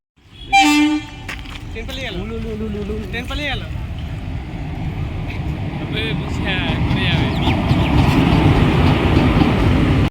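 A railway train sounds its horn in a couple of loud blasts, then a rolling rumble builds and grows louder as it passes, with voices chattering over it.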